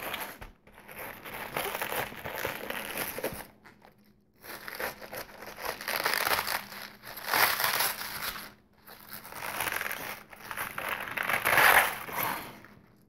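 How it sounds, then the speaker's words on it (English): A knife works through the tough core of a cabbage in repeated crunching, crackling bursts separated by short pauses, close and fairly loud. "And I just like to cut some of this core out of there."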